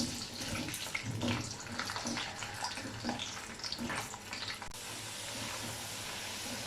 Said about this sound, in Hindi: अब इसमें आलू डालेंगे और इसको 3 से 4 मिनट के लिए फ्राई कर लेंगे।